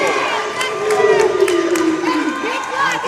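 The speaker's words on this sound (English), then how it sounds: "can hear the cheer from the crowd" Crowd cheering in a gym at a girls' volleyball tournament, a loud sustained roar of many voices with shouts and whistles, a commentator's voice heard through it.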